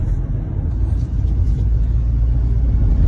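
A 2013 Dodge Caravan that had been stuck in limp mode with a line pressure fault, heard from inside on a test drive as a steady low engine and road rumble, no one speaking.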